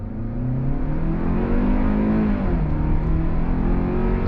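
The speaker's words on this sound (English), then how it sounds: "But here we go, on throttle." A 2023 Hyundai Tucson XRT accelerating under throttle through its 8-speed automatic, engine note rising steadily and loud from inside the cabin, with a smooth shift dip partway through and no talking.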